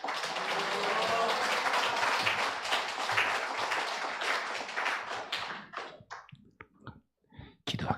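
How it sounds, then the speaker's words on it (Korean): A church congregation at a Sunday worship service applauds to welcome the pastor: dense, steady clapping for several seconds that thins to a few scattered claps before fading out. "우리 목사님 나오실 때 우리 박수와 할렐루야로 우리 환영하겠습니다."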